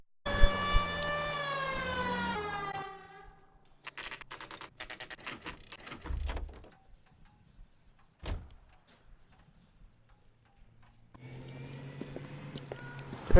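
A police car siren from the video game L.A. Noire wails with a rising and falling tone for a few seconds, then gives way to scattered clunks, thuds and engine noise.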